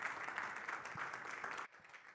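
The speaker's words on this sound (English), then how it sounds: "let's give Rob a big round of applause" An audience at a business event applauds, a dense wash of clapping held steady for about a second and a half before cutting off abruptly into near quiet.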